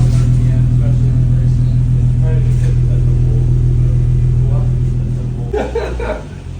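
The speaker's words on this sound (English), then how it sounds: "we're gonna listen for some exhaust" An Infiniti Q50 fitted with an ARK Performance exhaust with test pipes idles with a loud, deep, steady rumble close by, then the engine note drops off near the end, with voices talking over it.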